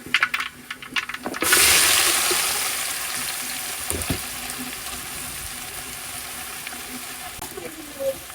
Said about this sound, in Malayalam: അപ്പോൾ എണ്ണയൊക്കെ ചൂടായി വന്നിട്ടുണ്ട് ഇനി ബാക്കിയുള്ള സാധനങ്ങളുടെയൊക്കെ ഇട്ട് കൊടുക്കാം